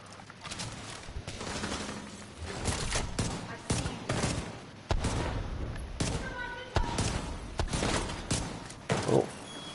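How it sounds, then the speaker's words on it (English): Pistol shots ring out in The Division 2 on PS5, several sharp irregular cracks spread across the stretch, with game ambience and occasional talk between them. "I can snipe too with my pistol."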